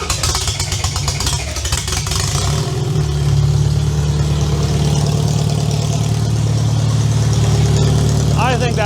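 A car engine with its fuel pump and computer powered cranks and catches, then settles into a loud, steady running drone close by, with voices talking over it.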